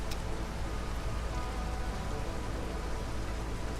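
Storm rain in RimWorld falls as a steady, even hiss of downpour throughout, moderately quiet and unbroken, with no voices.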